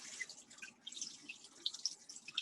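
Cool water from a kitchen sink tap running and splashing while something is rinsed, a steady close wash of water with scattered drips and patters.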